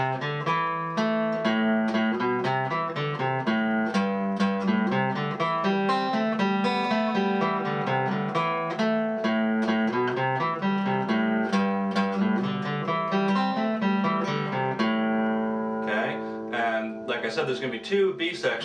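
An acoustic guitar plays the second section of the fiddle tune Cattle in the Cane, a steady run of close, clear picked notes with ringing harmonics that continues without pause and tapers off near the end.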